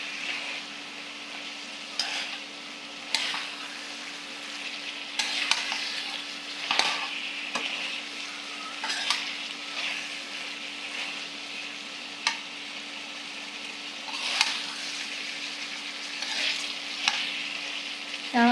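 Chickpeas fry in plenty of oil in a village karahi, a continuous sizzle broken by repeated sharp bursts of stirring and scraping, close and moderately loud against a faint steady hum.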